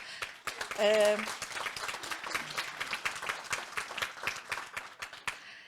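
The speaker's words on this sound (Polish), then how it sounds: "wielkie brawa dla Magdaleny Piejko" An audience at a screening of the film "Naszość" during the Przystanek Niepodległość 2023 event breaks into sustained, close applause, with a brief vocal cheer rising over the clapping near the start.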